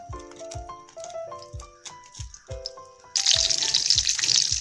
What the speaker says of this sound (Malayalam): എണ്ണ ഇവിടെ നന്നായി ചൂടായിട്ടുണ്ട്. ഇതിലോട്ട് സവാള ഇട്ടു.